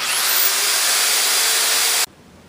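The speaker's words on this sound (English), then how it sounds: "you'll be able to use small power tools like this 4 amp drill" A 4-amp power drill, run from a 12-volt 1000-watt power inverter, whirs steadily at high speed for about two seconds, then cuts off abruptly, leaving quiet room tone.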